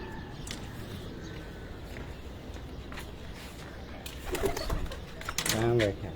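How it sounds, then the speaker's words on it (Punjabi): Domestic pigeons coo at a local pigeon-flying tournament, a low throaty burst rising near the end over steady outdoor background noise with faint movement. "ਇਹ 11ਵਾਂ ਕਬੂਤਰ, ਆਖਰੀ ਕਬੂਤਰ ਜੀ।"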